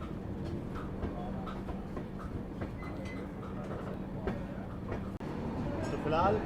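Steady rumble of the Shri Shakti AC Express running between New Delhi and Katra, a continuous low drone with faint rhythmic clicks from the rails, heard from inside the carriage.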